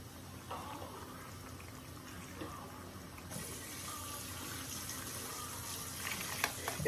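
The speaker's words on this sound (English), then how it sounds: "Now I'm ready to add some water to it" Water poured into a pot of simmering shrimp and sausage spaghetti sauce in a home kitchen, a soft rushing gush that swells partway through and continues to the end, with no talking.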